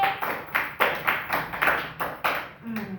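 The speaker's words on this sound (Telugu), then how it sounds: "క్లాప్స్ కొట్టండి ఒకసారి." Children clap together in a steady rhythmic beat, about ten loud, close, evenly spaced claps in a row, with a voice heard briefly near the end.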